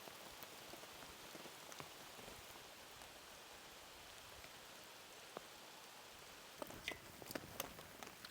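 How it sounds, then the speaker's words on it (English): Heavy rain patters steadily on surfaces around a hammock camp, a soft, even wash of drops with a few closer, sharper splats, no voices. "So the rain is finally here"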